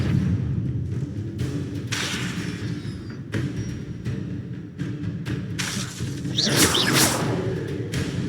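The Depulso force-push spell cast in Hogwarts Legacy, several sharp whooshing bursts with thuds and shattering impacts spread across the clip, loud and close over ambient game sound.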